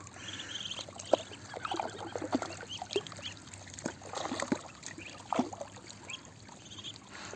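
Ducklings paddle and splash in a small pool of water, with soft intermittent splashes and light sloshing bursts at close range, and occasional faint peeping or quacking calls in between.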